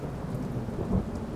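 A thunderstorm: a low, rolling rumble of thunder over a steady wash of rain falling on surfaces, dense and continuous with no voices.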